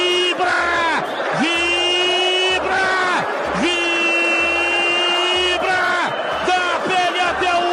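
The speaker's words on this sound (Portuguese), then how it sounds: "Guarani faz o gol e a torcida vibra" A Guarani football crowd at Brinco de Ouro roars after a goal, a loud massed yell running throughout, with a sustained horn-like tone blaring in repeated long blasts on top.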